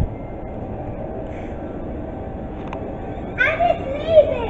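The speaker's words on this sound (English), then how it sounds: "The train's gonna go and I wanna get it." A low rumbling train departs from a platform at Cobham & Stoke D'Abernon station, moving along the track with a steady drone, and a voice chimes in toward the end.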